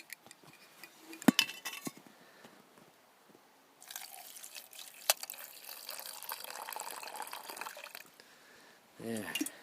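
Water poured from a canteen carried in a sock into a metal camp cup outdoors, with a few clinks of gear, then several seconds of trickling and splashing liquid, fairly close and moderately loud.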